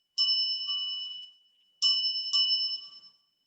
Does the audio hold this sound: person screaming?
no